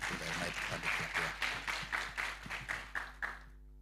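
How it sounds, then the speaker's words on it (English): At a church youth forum, the audience claps in a steady unison rhythm, roughly three beats a second, with voices murmuring underneath, before the clapping stops abruptly. "Let's just appreciate these leaders with a nice clap here."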